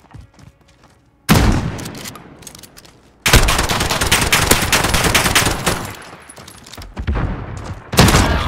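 Gunfire in Call of Duty: Modern Warfare during a Gun Game match: loud bursts of automatic fire and rapid shots, near and heavy, with short quieter gaps between volleys.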